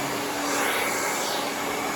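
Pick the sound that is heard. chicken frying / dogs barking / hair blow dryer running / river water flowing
hair blow dryer running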